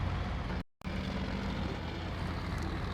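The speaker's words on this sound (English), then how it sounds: "I love the sound of this engine too." A truck engine runs steadily in SnowRunner, a continuous low drone that cuts out for a moment near the start and then resumes. No one speaks.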